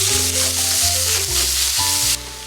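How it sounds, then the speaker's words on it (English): Minced beef sizzles loudly in olive oil in a hot pan, a steady dense hiss with stirring and scraping as the meat browns, then drops a little toward the end. "I'm just gonna break up the meat as it browns"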